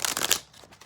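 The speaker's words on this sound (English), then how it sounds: "and let's shuffle." A deck of tarot cards being shuffled, a short, close riffle of papery flicking in a quick burst that fades into quieter rustles.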